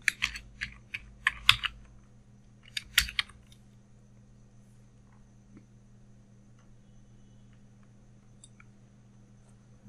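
Clicky keystrokes on a computer keyboard come in a few quick bursts during the first three seconds, close and fairly loud, then stop. A steady low hum sits underneath, and nobody speaks.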